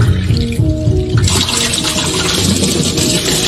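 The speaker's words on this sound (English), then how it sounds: "She pours water from a big jar and just keeps overpouring and does not stop." Water pours from a big jar into a small jar, a close, loud gushing stream that grows brighter and fuller midway and keeps running steadily without pause.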